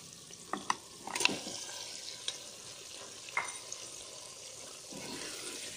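Chicken pieces going into a pot of fried masala for a desi chicken korma, giving a few scattered clatters and stirring scrapes over a low steady sizzle, fairly close and with no talking.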